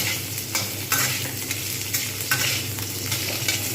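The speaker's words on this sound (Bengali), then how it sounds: "এটাকে আমি কিন্তু এবারে খুব ভালোভাবে ভেজে নেব" Spinach, gourd greens, eggplant and potato stir-fry in a pan, with a continuous close sizzle broken by regular spatula scrapes and tosses roughly every half second, and no voices.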